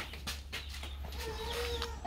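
Chickens on a rural farm with a rooster cluck several times close by, short soft calls over quiet background noise, without talk.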